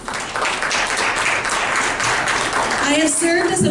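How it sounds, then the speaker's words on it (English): An audience claps in a round of applause for La Mujer Obrera and the women of Café Mayapan at a community debate event, with voices carrying through the clapping. "I need everyone to give a round of applause to La Mujer Obrera and las mujeres de Café Mayapan"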